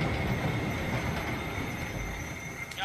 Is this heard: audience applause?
no